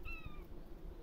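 A mother cat gives one short, faint meow over quiet background hum.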